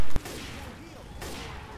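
A single sharp gunshot from Left 4 Dead 2 cracks loudly near the start, followed by a steady wash of game noise and faint background sound.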